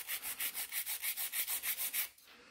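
A nail file rasps on gel nail extensions in about fourteen quick even back-and-forth strokes, close and crisp, then stops.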